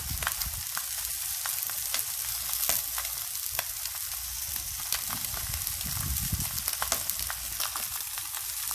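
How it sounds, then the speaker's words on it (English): Dried marinated fish (dinaing na isda) grills in a hot pan, crackling and sizzling steadily up close with frequent sharp spits and pops, no voices. "So we're gonna grill this on this side for 5 minutes,"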